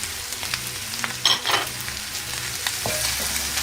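Chicken sautéing in butter with red pepper on a sac pan, a steady close sizzle with scraping stirs and a brief louder spatter near the middle, no talking.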